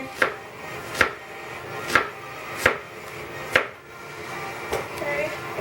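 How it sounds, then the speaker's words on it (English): A knife cuts an onion into julienne slices on a board, with six sharp, evenly spaced chops about a second apart, close and distinct over a faint background. "just slice my, julienne slice my onion"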